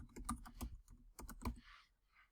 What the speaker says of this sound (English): I'm going to type confidential.